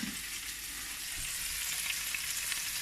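Scallops sear in a hot frying pan, giving a loud, steady, close hiss of sizzling oil that hardly varies and carries no talk.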